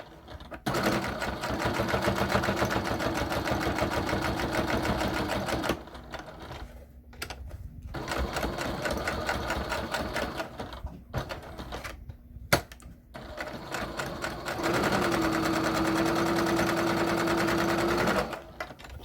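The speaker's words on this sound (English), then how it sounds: "Go ahead and top stitch so that the outside looks really nice and pretty and professional." A sewing machine top stitches a fabric wallet in long, steady runs of rapid mechanical whirring, stopping and starting between bursts with brief pauses and a single sharp click, close and loud.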